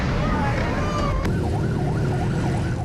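A wailing ambulance siren sweeps up and down outside a prison as paramedics arrive to treat injured inmates. The siren is loud and steady over a dense rumble of traffic and crowd noise.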